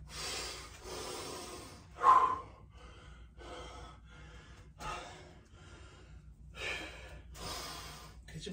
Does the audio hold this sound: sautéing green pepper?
no